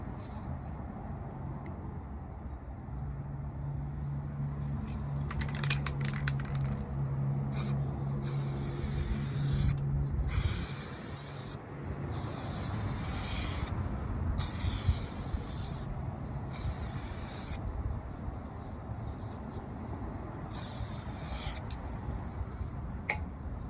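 Spray paint hisses from an aerosol can onto a car grille in a string of bursts of varying length, some long and some short, with brief gaps and faint handling noise between them.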